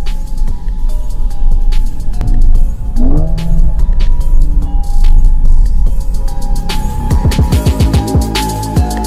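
A Mercedes-AMG A35 engine blips and revs on quick paddle-shift downshifts, with rising and falling bursts of engine roar heard close and loud over road noise, without talk.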